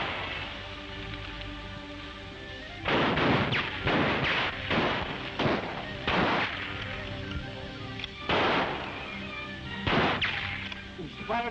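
Gunfire in an old radio serial drama: about half a dozen separate bursts, fairly faint and spaced unevenly over a steady background.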